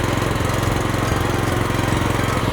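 A small engine-powered paddy field weeder drives forward with its engine running steadily, a loud, close, continuous chugging drone with a rapid even pulse and no voices.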